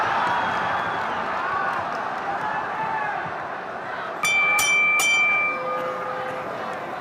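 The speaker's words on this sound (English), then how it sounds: "And there's the bell for round 7" A boxing ring bell rings to start round 7 in a Joe Louis versus Muhammad Ali bout, several quick metallic clangs ringing out over crowd noise.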